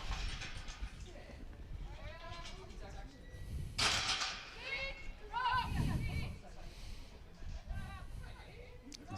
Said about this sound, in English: Those sheep are sort of settled there and haven't gone any further.